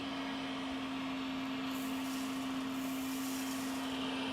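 A vacuum cleaner runs steadily at close range, a constant droning whine with a strong low hum and no pauses, used for pumping down a system.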